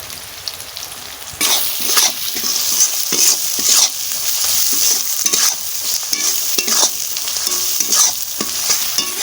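Ground spice masala fried in oil for steamed crab, sizzling loudly and continuously while a spoon scrapes and stirs the pan in repeated strokes, close up with no talking.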